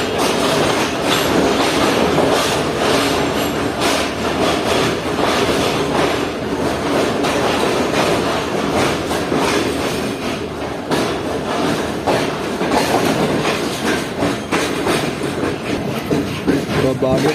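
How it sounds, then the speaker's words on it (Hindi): Karachi Express passenger train pulling out of Rohri railway station in Pakistan, with steady loud rumble and clickety-clack of wheels on rails, occasional metallic squeals and clanks, continuous throughout. "हमारी ट्रेन डिपार्ट कर रही है।"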